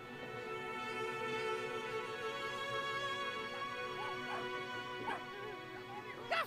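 A dog in the video game Brothers: A Tale of Two Sons barks and whimpers in a rapid run of yips over a steady droning music bed, fairly faint, with sharper barks toward the end.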